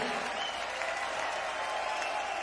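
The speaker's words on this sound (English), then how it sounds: "Give yourselves a cheer." Concert crowd at a show in Düsseldorf, cheering and applauding in a dense, loud, continuous wash of clapping and shouting.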